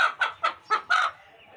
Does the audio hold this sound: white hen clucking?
yes